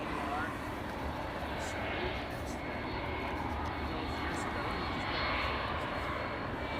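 A Vueling jet, flight 8315, at Amsterdam Schiphol gives off a steady, fairly faint broadband engine roar that holds evenly throughout, with a few short brighter ticks on top and no clear voices.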